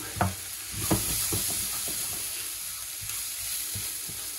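Onions frying with spices, including pepper and salt, in a pan: a bright continuous sizzle broken by a run of stirring knocks and scrapes, loudest early and then settling, close-up without speech.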